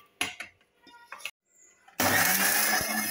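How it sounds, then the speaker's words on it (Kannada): A kitchen mixer grinder blends chutney powder with garlic, jaggery and salt: a few clattering handling sounds, a brief pause, then the motor bursts into a loud, steady whirring grind for the last second. "ನಾವು ಮಿಕ್ಸಿ ಮಾಡಿಟ್ಕೊಂಡಿರ್ತಕ್ಕಂಥ ಪುಡಿಗೆ ಈ ಬೆಳ್ಳುಳ್ಳಿ, ಬೆಲ್ಲ, ಉಪ್ಪು ಹಾಕಿ ಒಂದು ಸುತ್ತ ಹಾಕ್ಕೊಳ್ಳೋಣ"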